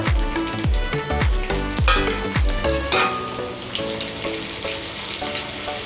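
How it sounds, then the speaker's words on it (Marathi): Green chillies fry in a pan for sabudana khichdi, a steady close sizzle running beneath loud rhythmic background music with thumping beats early on. "मिरची पूर्ण भाजून द्यायची आहे आपल्याला, नाहीतर ती कच्ची राहते।"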